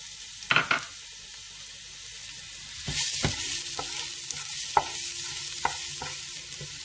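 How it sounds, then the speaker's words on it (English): Garlic drops into a tablespoon or two of hot oil in a pot and sizzles steadily, with a few clear clinks and scrapes of stirring over the hiss, no talking. "Then in goes my garlic."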